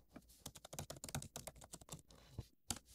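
Quick, close typing on a computer keyboard, with a run of crisp, irregular key clicks and a short pause near the end.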